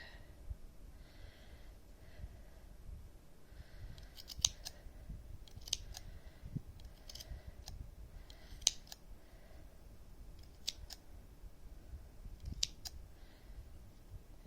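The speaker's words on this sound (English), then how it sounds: "You want to make sure you cut all the loops so it's nice and fluffy." Scissors snip through the yarn loops of a handmade pom pom, a steady series of crisp close clicks and cuts at an uneven pace, quiet overall with soft breathing and handling noise between snips.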